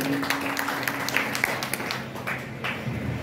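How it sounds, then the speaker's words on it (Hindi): Scattered clapping from a seminar audience, a steady patter of many hands at moderate loudness with no voices over it. "एक बार जोरदार तालियां सर के लिए"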